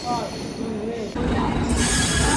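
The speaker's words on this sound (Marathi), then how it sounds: "तर चला इकडे आता ट्रेन आलेली आहे" Mumbai local train pulling in at Chinchpokli station near Lalbaug, wheels squealing loudly in long high drawn-out tones over a steady rumble that swells as it arrives.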